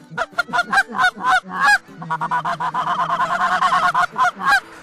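Repeated goose honks in quick bursts, a flock calling loudly and close during an early-season goose hunt, with brief gaps between clusters of nasal calls.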